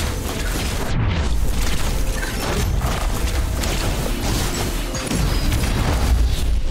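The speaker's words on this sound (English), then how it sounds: "We got bombs." Bombs exploding in the roguelike video game Windblown, a dense run of booming blasts and crashes layered over busy game noise, loud and continuous throughout with no pauses.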